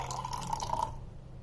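Cold water from the fridge poured into a thick yogurt mixture, a short close trickling splash that stops abruptly partway through.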